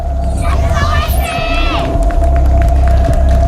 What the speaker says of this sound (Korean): 엄청난 함성을 받으면서 나서네요